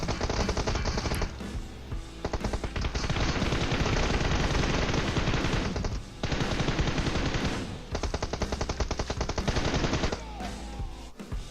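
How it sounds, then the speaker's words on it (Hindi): Dense automatic gunfire from a PUBG Mobile match rattles almost without pause, loud and close, with sustained bursts broken by brief gaps. "लेकिन हम पे गंदी फायर हुई"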